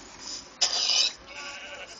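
A Minecraft sheep lets out a single bright, wavering bleat, close and clear over a low game-ambience hiss, fading into quieter background noise.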